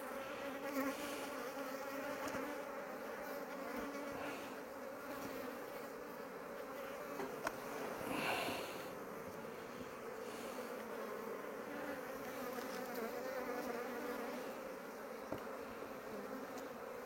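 Honeybees buzz steadily around an open hive while a beekeeper inspects a somewhat agitated colony, a dense, continuous drone close by with no talk over it.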